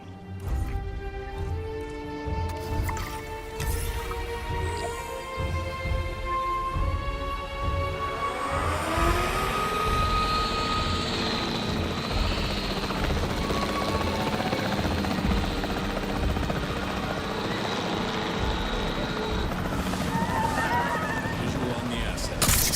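Capture team helicopter in the dinosaur park game Jurassic World Evolution 3, its rotor chopping loudly and steadily under tense music, with horse-like animal calls early on and voices around.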